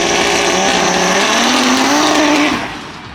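Five-cylinder drag cars, one an Audi RS3, launch at a drag strip with a loud, raspy roar and rising engine pitch, close and dense, fading slightly at the end.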